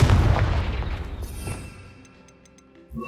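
A Confringo fire spell in the Hogwarts Legacy video game bursts in a heavy booming explosion that rumbles and decays over a couple of seconds, followed by faint ringing tones and a small thud at the end.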